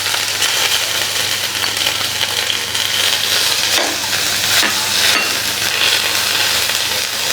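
Ginger and garlic frying in a pan for keema noodles, a loud steady sizzle with occasional stirring and crackle, close up and continuous.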